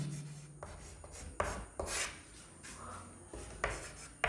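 A pen scratches across paper as a definition is written out, with irregular short rubbing strokes and small taps, close and quiet, no talking.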